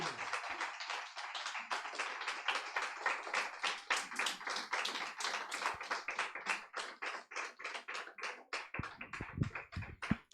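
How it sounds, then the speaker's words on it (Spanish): Church congregation clapping during a Spanish-language Lord's Supper service, a brisk run of distinct, evenly spaced claps that stays fairly steady, with a few louder hits near the end. "Dele ese fuerte aplauso al Señor."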